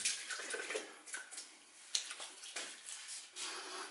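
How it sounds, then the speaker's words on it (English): Water splashes against a face and hands rinsing off shaving lather between passes of a wet shave, soft close splashing and dripping in uneven bursts. "So for the second pass, I'm going to rinse off."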